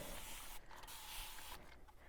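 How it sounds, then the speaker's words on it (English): A hand spray bottle mists water onto a fabric quilt block in two short bursts of hissing spray, close and fairly soft, separated by a brief pause. "I'm going to spray this with water."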